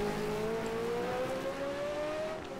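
Formula Retro race car engine in the sim racing game Game Stock Car Extreme, a loud close engine note climbing steadily in pitch as it accelerates through a gear, with no talking.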